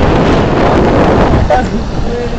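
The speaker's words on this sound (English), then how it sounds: "The wind! Not meant to be this high!" Strong gusting wind buffets the microphone with a loud, continuous roar on a chair ride in Dam Square during Queens Day, with people talking over it.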